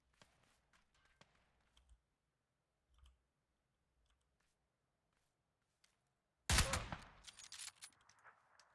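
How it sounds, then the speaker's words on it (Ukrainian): In the video game PUBG, sparse faint clicks and distant pops, then a sudden loud burst of rapid gunfire at a car followed by scattered shots fading off. "А тут типи нормальні, вони просто по машині стріляють."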